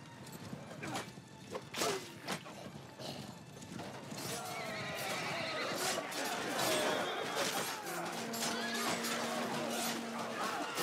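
A horse in a video game neighs and whinnies after being struck by an axe, loud tonal cries layered over clattering hooves and metallic combat clinks.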